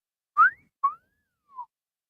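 A pet bird whistles a cat call, three short bright whistled notes, the first a rising swoop, then a quick chirp and a fainter falling note, alone in a quiet room.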